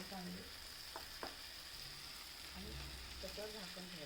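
Brinjal, potato and tomato sauté in a pan with a faint, steady sizzle and occasional stirring scrapes, heard quietly in the background.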